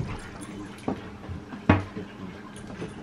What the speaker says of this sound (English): The puppies are keeping me company.